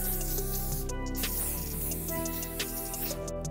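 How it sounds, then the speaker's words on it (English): Flexible-hold hairspray infused with rose quartz is sprayed over styled hair, giving a few short, soft hissing bursts over steady background music. "Then we're gonna take our flexible hold hairspray that's infused with rose quartz. We're gonna go ahead and spray it all over."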